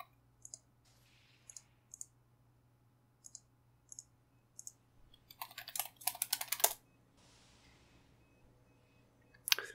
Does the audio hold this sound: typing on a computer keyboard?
yes